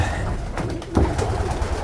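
Male pigeons coo in low, soft, throaty murmurs, close by and continuous, with faint shuffling noise around them.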